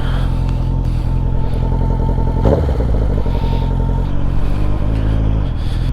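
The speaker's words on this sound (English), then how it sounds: "Right, we'll adjust the idle ever so slightly." Honda Nighthawk motorcycle engine idling steadily just after an idle adjustment, a loud close rumble with even mechanical clatter and one brief louder burst partway through, no talking.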